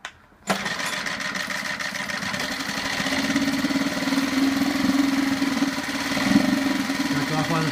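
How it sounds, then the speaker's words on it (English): A SeaNovo 2.5 HP four-stroke outboard motor starts abruptly after a brief silence, then settles into a steady, loud, buzzing idle that holds on close to the microphone with slight rises in pitch. "let's do a startup on the SeaNovo Outboard here"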